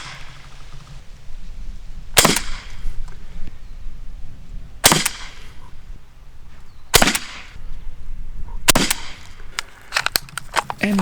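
An Umarex HDR68 CO2 pistol fires rubber projectiles, giving sharp, close cracking shots: several spaced pops, then a quicker cluster of shots at the end over faint background noise.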